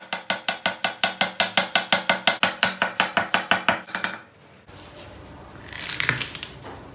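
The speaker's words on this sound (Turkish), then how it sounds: "İşimize soğanımızı doğrayarak başlayacağız. Soğanlarımız ince olacak." A knife chops onions thinly on a board in a fast, steady run of about twenty crisp, close strokes, and then it stops. A brief scraping or rustle follows.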